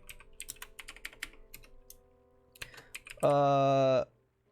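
Fingers clatter over a computer keyboard in a quick, irregular run of light clicks, then a loud sustained tone cuts in near the end and stops abruptly.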